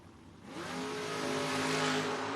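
Two door-class drag race cars, a Chevy S10 and a 1980 Camaro, launch off the line at a Pennsylvania strip, engines roaring louder and rising in pitch as they accelerate away, a steady loud blare with no talk.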